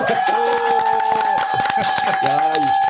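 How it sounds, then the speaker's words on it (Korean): An audience at a live public broadcast recording claps and cheers in a steady rustling wash under someone talking loudly over a microphone. "이런 환호성 진짜 몇 년 만에 들어보네"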